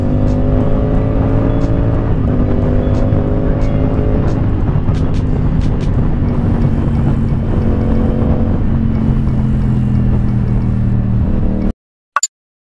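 A CF Moto 450 SR-S motorcycle engine drones steadily while riding, its pitch stepping up and dropping with each gear change, loud and close throughout before cutting off abruptly near the end.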